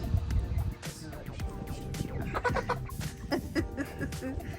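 Chickens cluck and squawk close by while being moved out of their coop on cleaning day, a busy stream of overlapping calls with no one speaking.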